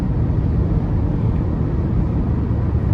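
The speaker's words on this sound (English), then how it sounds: "But coming down the highway here, wind noise, it's a tad up there" Steady broadband wind and road roar inside a 2011 Toyota Prius cruising on a highway on a very windy day, a continuous low rumbling hiss with no talk.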